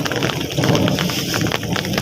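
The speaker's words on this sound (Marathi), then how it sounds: "आज कंटिन्यू पाऊस आहे" Steady, continuous rain during a long spell of monsoon-like downpour in a rural village setting, a dense even hiss of falling drops with no clear breaks, close and fairly loud throughout, with no talking.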